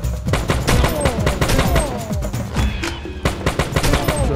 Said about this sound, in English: I can just keep shooting.